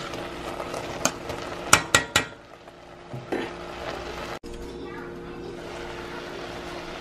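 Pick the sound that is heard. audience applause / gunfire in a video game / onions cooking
onions cooking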